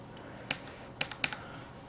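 A few separate laptop keys click sharply, three or four taps spaced apart in a quiet room.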